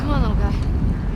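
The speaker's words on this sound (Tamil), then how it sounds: "இவ்வளோ நேரம் அடிக்காத காற்று இப்போ ஏன்டா அடிக்குது?" Strong wind gusting in The Last of Us Part 2, a loud, steady low roar filling a brief moment, with a faint tonal whistle drifting above it.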